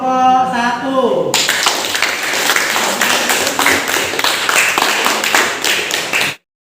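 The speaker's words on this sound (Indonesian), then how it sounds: "Kita beri aplaus untuk kelompok 1." Classroom applause for a student group, dense rapid clapping from many hands, close and loud, sustained for several seconds after a brief voice and then cut off abruptly.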